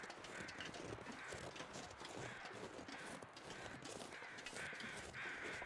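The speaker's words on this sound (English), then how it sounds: "Oh, I think I hear crows to the front left." Crows caw in a survival video game, repeated faint calls off to one side over a steady wash of outdoor ambience, with no one talking.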